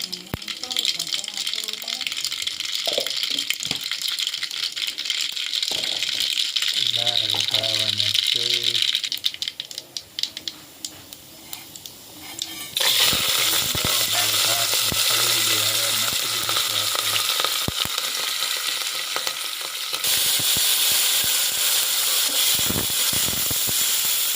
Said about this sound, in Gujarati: ચાલો મિત્રો તેલ ગરમ થઈ ગયું છે રાઈ નાખી દીધું છે